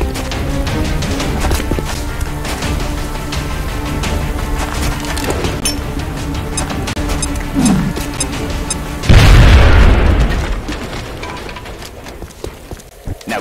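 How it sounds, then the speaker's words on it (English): A grenade blast in the video game XCOM: Enemy Within lands as one loud, sudden boom over the game's steady background sounds, then slowly fades away. "Now toss your grenade at the enemy in front of you."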